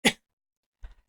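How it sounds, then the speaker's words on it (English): A single sharp cough bursts out at the start, followed by a brief pause and a softer, muffled second cough or throat sound. "I wasn't coughing until right at that moment"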